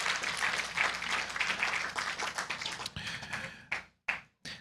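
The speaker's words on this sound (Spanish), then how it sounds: "Den un fuerte aplauso al Señor" A church congregation claps for the Lord after a call for applause. Dense, lively clapping fills the room, then thins out into a few scattered, separate claps before it stops.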